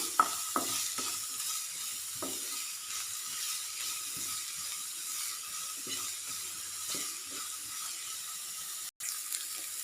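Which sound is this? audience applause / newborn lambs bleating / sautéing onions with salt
sautéing onions with salt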